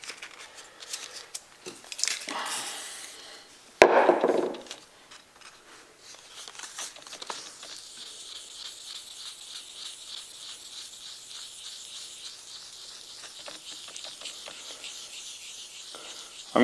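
An axe head is hand sanded with 4000 grit sandpaper, giving a soft, continuous scratchy rubbing after a loud rustle and knock near the start.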